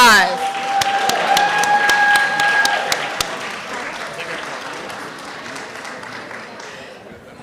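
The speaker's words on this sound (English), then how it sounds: "let's give everybody another round of applause" A crowd at a healing summit in Chicago applauds loudly with dense clapping and a few cheers, then the clapping slowly fades away.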